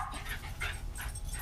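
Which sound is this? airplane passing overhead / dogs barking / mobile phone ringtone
dogs barking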